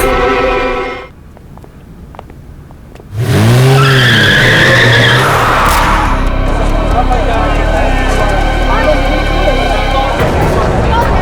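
A car driven recklessly by a drunk driver skids hard, tires screeching loudly in a long rising and falling squeal over a roaring engine, after a short lull following a ringing tone.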